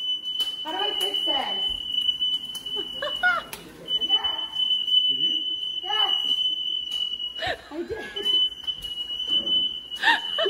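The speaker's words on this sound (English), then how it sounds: "the fire alarm went off" A household smoke alarm shrills in one steady, unbroken high tone while people talk over it throughout.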